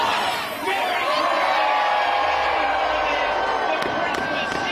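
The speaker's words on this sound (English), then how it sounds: "A big, excited crowd." An excited crowd cheers and whoops at the Circle of Lights Christmas festivities in downtown Indianapolis, a loud, sustained outdoor roar with shouts rising over it and a voice speaking through.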